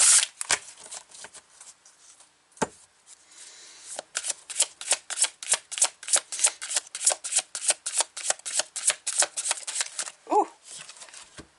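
A deck of tarot cards shuffled by hand at close range: a few scattered flicks at first, then a long run of quick, rhythmic riffling snaps that stops near the end.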